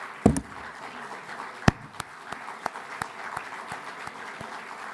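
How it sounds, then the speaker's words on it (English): An audience applauding paramedics of Magen David Adom, a modest patter of clapping with a few sharp, louder claps standing out from the steady background. "they deserve your applause"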